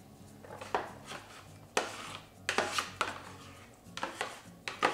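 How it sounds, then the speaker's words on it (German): Steamed vegetables tipped from a Thermomix Varoma steamer into a pot, heard as a run of clattering scrapes and knocks of utensils against metal, moderately loud and close, with no talk. "Jetzt nehme ich meinen Wundersteam raus, gebe das Gemüse mit in den Topf"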